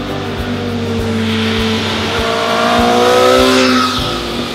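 A Suzuki GSX-S750 motorcycle is ridden hard through twisty roads, its engine loud and close with a sustained roar that climbs in pitch as it revs up, punctuated by regular low thumps.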